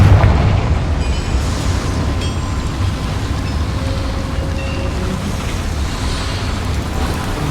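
Confringo fire spell in Hogwarts Legacy, a loud, sustained blast with a roaring, crackling burst at the start that settles into a steady rumbling wash, with faint sparkling high tones layered over it.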